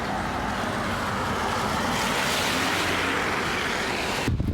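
A river flows at Lentwardine as a steady, loud broadband rush that stays even throughout, ending in a brief thump near the close.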